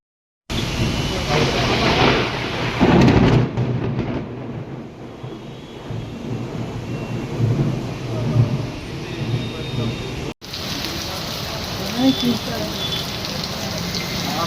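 Heavy monsoon rain and thunderstorm in Telangana: a continuous hiss of downpour with a louder rumbling burst near the start, an abrupt cut midway, then steady rain again, with a voice speaking over parts of it.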